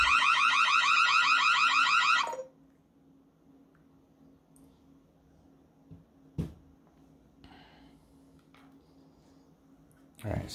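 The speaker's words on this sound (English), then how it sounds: "you will shortly hear the alarm going off on my phone" An electronic alarm beeps rapidly and loudly for about two seconds, then stops, leaving quiet room noise with a couple of soft clicks.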